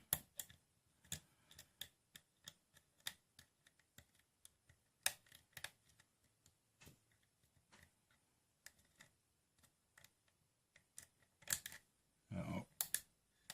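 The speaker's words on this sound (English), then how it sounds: "A bunch of clicking out of the back there." Faint, irregular clicks sound from inside the keyway of a lock being picked during the making of an Everest Challenge lock. The sparse ticks are close and quiet, with a denser cluster near the end.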